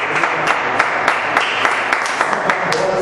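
A church congregation claps together at the end of a service, with continuous, fairly loud applause and a scatter of sharper individual claps standing out from the mass.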